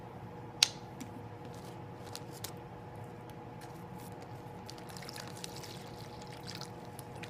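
Vinegar poured into a plastic bag gives a faint, soft trickle and slosh in a quiet room, with a small sharp click near the start and a few light rustles of plastic.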